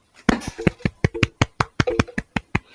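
A single person claps their hands about a dozen times in an even rhythm, close and crisp, with a faint voice between claps.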